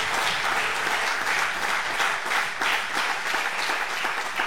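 A church congregation bursts into steady, enthusiastic applause, dense overlapping clapping filling the room throughout, loud and sustained with no speech over it.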